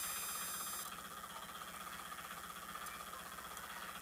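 A Tata Ace Gold BS6 mini truck engine idles at about 950 RPM while parked, giving a quiet, even mechanical hum with a faint regular pulse and no voices.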